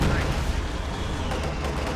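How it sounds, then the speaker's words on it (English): Dense, continuous heavy machine gun fire from a DShK in a real-time strategy game battle, a sustained rattle of rapid shots with broadband noise throughout, a voice talking over it. "The MG, it sounds like the Dushka."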